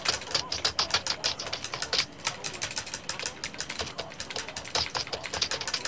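Rapid, dense clacking of a computer keyboard while playing Splinter Cell 3 multiplayer, with continuous irregular keystrokes close to the microphone and faint game sound underneath.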